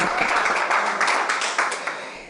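An audience claps and applauds for footballer Cristiano Ronaldo in a hall, a steady, dense wash of many hands throughout, loud and close with no talk over it.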